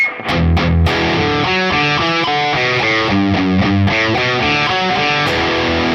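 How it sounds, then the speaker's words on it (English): Heavily distorted electric guitar chugs through a rhythmic riff of repeated chords, loud and close, with a few quick strums at the start. "there's another guitar that comes in that has distortion, and it sounds like this"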